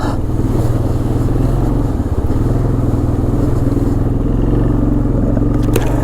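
A 1996 Arctic Cat 454 Bearcat 4x4 ATV engine runs at a steady idle nearby, a continuous low, even drone with a faint rattle and no revving.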